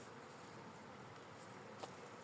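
Honeybees buzzing around an opened beehive during varroa mite treatment, a faint, steady hum of many bees close by with no voices.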